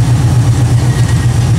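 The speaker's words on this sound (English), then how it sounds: "So he's now going to adjust the idle screws. See up there? To get this thing idling properly." A 1979 AMC AMX's AMC 304 V8 idles on a dyno with headers fitted, a loud, steady low rumble with an even pulsing lope throughout, alone without talk.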